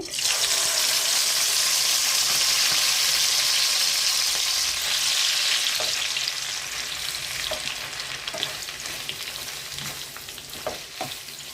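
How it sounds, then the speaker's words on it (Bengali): Papaya frying in a pan with whole cardamom for halwa: a loud, hissing sizzle that eases after a few seconds into a gentler crackle, with occasional spoon knocks and scrapes. "কিছুক্ষণ ভেজে নেব পেঁপেটা।"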